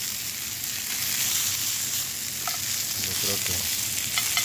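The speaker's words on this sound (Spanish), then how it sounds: "Como 2 minutos de cada lado, para que se vea bien, quede doradito." Short ribs sear in a pan with a strong, continuous sizzle and crackle, close and even, while a voice speaks briefly near the end.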